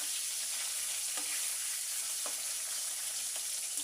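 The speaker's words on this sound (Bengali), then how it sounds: "এবার আমি উল্টে আরেক পাশে হালকা করে ভেজে নেব।" Stinging catfish fry in hot mustard oil with a steady, even sizzle and fine crackle, joined by a few faint taps of a utensil in the pan.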